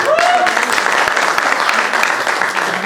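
Audience applause at a Hindi stage play, the 'Roti aur Beti' drama: loud, dense clapping from a nearby crowd, sustained and steady for about three seconds.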